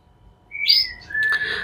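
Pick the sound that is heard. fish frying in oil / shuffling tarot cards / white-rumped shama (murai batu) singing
white-rumped shama (murai batu) singing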